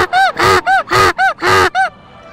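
A boy imitates a donkey braying with his voice: seven loud, evenly spaced honking calls in a quick run, close and alone, trailing off into quiet.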